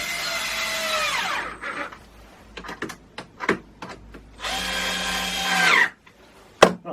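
A power drill drives Torx screws into wood in two sustained whirring bursts that strain as each screw seats, separated by short clicks and knocks of handling in a workshop.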